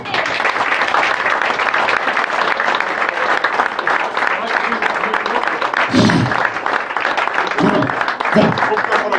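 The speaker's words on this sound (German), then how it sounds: "dieser Applaus, der jetzt kommt, ist nur für dich" Audience applause at a benefit event in Gremberg: a dense, loud, steady wash of clapping that fills the whole stretch, with a few louder bursts from nearby hands.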